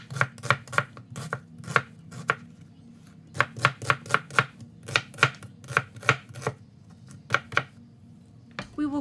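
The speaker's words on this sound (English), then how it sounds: "Next, we will slice our onions." Rapid, rhythmic knife strokes slicing onions on a cutting board for Filipino mixed vegetables in shrimp paste, a close run of crisp, evenly spaced chops with brief pauses.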